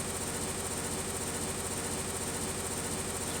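A heavy machinery engine in a Minecraft mod idles with a steady, even low drone and faint mechanical rumble, quiet and unchanging throughout.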